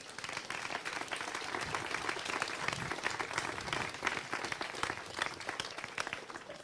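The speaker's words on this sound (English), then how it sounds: "Please join me in giving Katie a round of applause." Sustained, dense applause from a crowd at a mural art competition event, fairly soft and distant, with a continuous even texture of many hands clapping and no speech.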